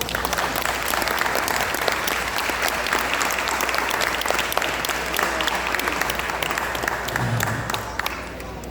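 At a mask festival storytelling session, an audience breaks into sustained applause after a tale ends, a full, even roar of clapping that tapers slightly near the end.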